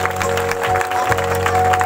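Sunday healing meeting congregation clapping hard in church, a thick sustained roar of many hands over a steady background hum, loud and unbroken.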